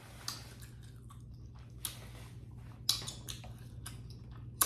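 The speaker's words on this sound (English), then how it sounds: "And I'm still chewing." Green lip mussels from a seafood boil are chewed close to the microphone: wet, squishy mouth sounds with a few sharper crunchy bites spaced irregularly over a quiet low hum.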